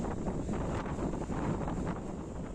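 Steady wind blows across the corridor deck of a passenger ship on the Labuan Bajo–Surabaya crossing, a continuous broadband rush with constant loudness and no voices.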